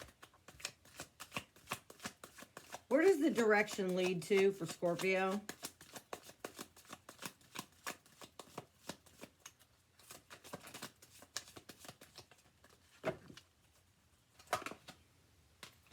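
Tarot cards are shuffled in quick riffling bursts near the start, with a voice speaking briefly over them and softer card handling afterward.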